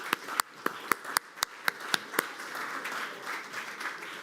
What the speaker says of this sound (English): you deserve a big applause for your attendance, outstanding attendance